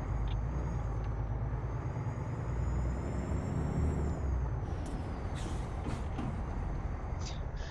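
Truck engine in the Euro Truck Simulator 2 game drones in a steady, loud rumble throughout, with a sharp hiss of air brakes and faint clatter near the end.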